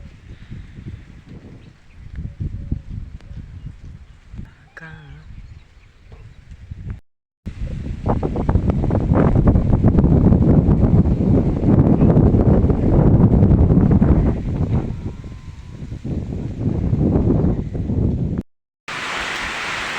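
Strong storm wind buffets a farm, a loud broadband roar gusting over the microphone with rain mixed in, easing and swelling, briefly cut to silence twice.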